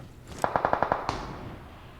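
A rapid burst of about seven gunshots from the PUBG Mobile video game, sharp and evenly spaced, followed by a brief fading tail.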